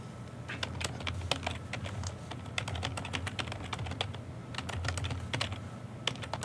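Someone types steadily on a computer keyboard indoors, a quiet, continuous run of close, crisp key clicks in irregular bursts, with no talking.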